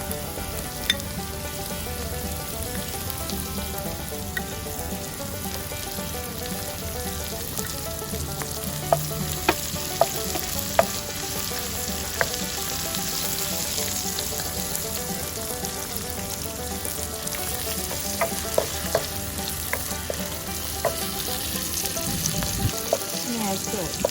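Dried shrimp and tofu fry for Pad Thai in a hot pan, a dense, continuous sizzle broken by scattered sharp pops and crackles, with a spatula scraping and stirring through it near the end.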